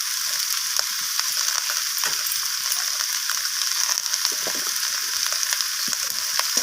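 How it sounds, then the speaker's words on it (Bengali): Vegetables such as kohlrabi, radish, beans, eggplant and potato frying with chili and cumin powder in a pan for a fish-head chorchori, a steady sizzle with repeated scraping clicks of stirring throughout. "তো সমস্ত কিছু মশলা আমি সবজির সাথে এইভাবে নাড়াচাড়া করে কষিয়ে নেব।"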